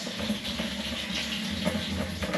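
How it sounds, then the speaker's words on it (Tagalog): Tap water runs steadily into a container being filled for a bath, a continuous rushing splash that stays even throughout with no voices. "Magpundo ako ng tubig para maligo ako"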